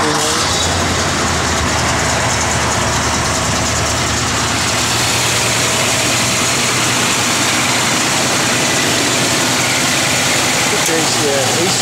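A 1966 Ford Mustang convertible runs with its engine idling in a loud, steady low rumble, with someone talking nearby.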